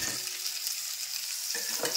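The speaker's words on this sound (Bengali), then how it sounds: "মাছ ভাজা অয়েলের মধ্যেই আলুটাকে ভেজে নেব" Potatoes and boiled cauliflower fry in leftover fish-frying oil, giving a steady close sizzle with a brief stirring scrape toward the end.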